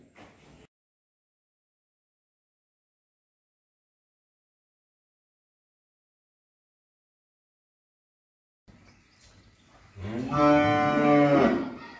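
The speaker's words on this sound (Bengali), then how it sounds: "এই হলো আমার আজকের এক নাম্বার একটা ফ্রিজিয়ান বকনা বাছুর" An eight-month-old Friesian heifer calf lets out one long, loud moo near the end, close by, after a stretch of near silence and a faint start.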